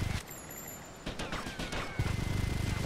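Bursts of gunfire crackle in GTA: Vice City, with sharp rapid shots clustered in short volleys amid a low rumbling game background, moderately distant and fairly quiet overall.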